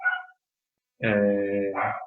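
A dog barks nearby: a brief yelp, a pause, then a longer, drawn-out tonal bark or howl that carries for about a second.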